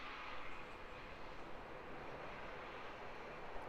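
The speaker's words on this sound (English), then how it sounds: "Hard on the right-hand side there from Fiji, eh? Gorgeous Airbus A330." A Fiji Airways Airbus A330 touches down with its thrust reversers deploying, a steady broad jet roar holding from start to finish at moderate distance.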